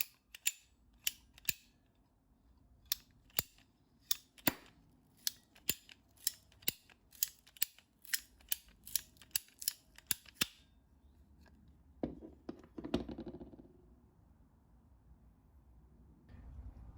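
Golf balls from Titleist, TaylorMade and Callaway being cut open, heard as a rapid series of sharp, close snips and clicks that taper off, followed by a brief rustling scrape and then quiet handling, with no talking.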